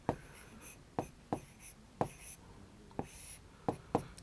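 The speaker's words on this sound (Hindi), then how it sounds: "तो हम यहाँ दूसरी आकृति के ऊपर लिख देंगे किनारे बराबर 5" Writing on a shape diagram during a primary-school maths lesson: a quiet series of about nine short, scratchy strokes in an uneven rhythm, close to the microphone.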